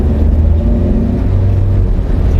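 A bus idles in slow traffic on a Jakarta-bound road, giving a loud, close, continuous low engine rumble with no breaks or talk.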